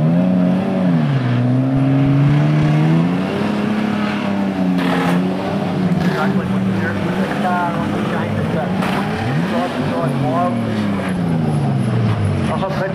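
Speedway race cars in a chain race at Beachlands Speedway, Dunedin, several engines droning and revving continuously at close range, with shifting pitch as cars pass, under steady commentary.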